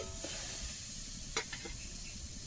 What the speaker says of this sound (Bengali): এবার আমি তেলের ভিতরে আম আর কলাটা, পাকা কলাটা দিয়ে দেবো।